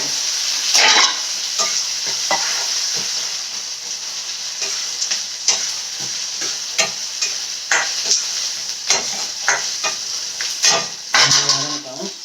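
Onions and tomatoes sauté in a pan for a fish curry and chicken gravy, a steady close sizzle broken by repeated scraping stirs of a spoon against the pan at irregular intervals.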